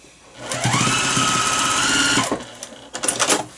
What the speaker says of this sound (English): I'm just going to sew away, white thread or not